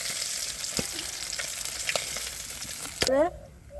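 Cumin seeds hiss and crackle in hot oil while a cook prepares doi katla, with a quiet sizzle, a few sharp clicks, and a brief louder burst near the end before the sound fades.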